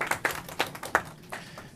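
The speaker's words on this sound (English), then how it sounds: "Thank you for the applause." Audience clapping at a New York Senate public hearing on deed theft: a short, sparse patter of a few claps from a small crowd at moderate distance that fades out quickly.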